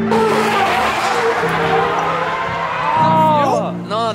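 Drift cars on a Japanese race track sliding past a wall half a meter from spectators, a loud continuous engine roar and tire noise with rising revs near the end, people shouting over it.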